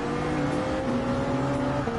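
Gran Turismo 7 race audio of a TS030 Hybrid prototype racing at Michelin Raceway, its engine holding a steady, loud, continuous drone throughout with a sustained tonal whine.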